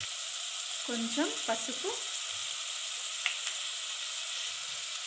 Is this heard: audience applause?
no